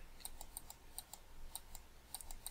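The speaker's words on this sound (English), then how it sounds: "Sorry if you can hear that mouse click." Quiet, sharp clicks in an irregular series, about a dozen light mouse taps while playing the game Arcade Escape, close but faint against a low background hum.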